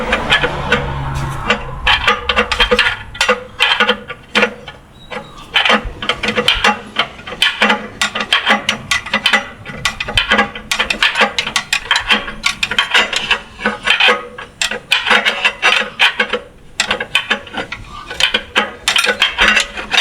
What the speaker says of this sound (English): I'm going through the bottom of the converter inspection cover here and just prying against the flex plate.